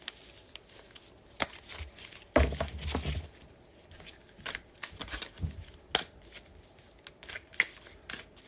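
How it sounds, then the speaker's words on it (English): Tarot cards are shuffled in irregular bursts of crisp riffling and flicking, close by, with quiet pauses between. "Oh my gosh, I can't even shuffle"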